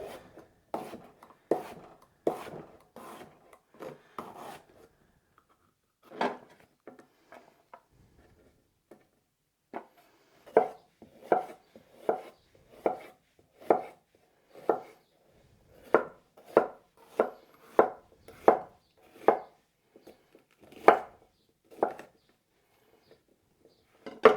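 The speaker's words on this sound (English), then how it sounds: "And the other half I'm going to cut finer for the stir fries." A knife cuts bell peppers on a board during Sunday meal prep, first into slices for a salad and then finer for stir fries, with fairly fast sets of sharp, evenly spaced chops and short pauses between them, close and alone.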